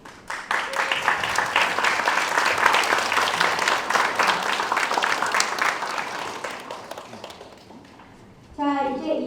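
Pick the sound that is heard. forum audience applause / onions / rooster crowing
forum audience applause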